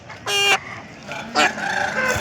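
Roosters crow at the Pileru hen market, two loud strident calls close by in quick succession over a quieter background of market noise.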